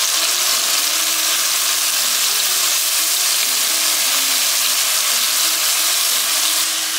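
Chicken frying in a pan with honey and garlic, a loud, steady hiss and sizzle filling the whole span up close, with no talk over it.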